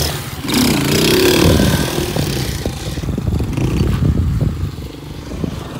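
A motorcycle engine revs hard during a wheelie, loud and close, surging and falling in pitch over several seconds with a rough mechanical drone underneath.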